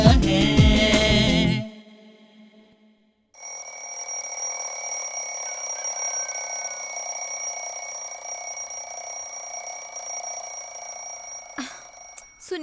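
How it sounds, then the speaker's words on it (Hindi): A bedside alarm clock rings steadily and loudly for about nine seconds in a quiet bedroom, a bright repeating electronic ring, after a burst of music ends and a short silence; it breaks off at the end with a brief knock. "अलार्म बज रहा है"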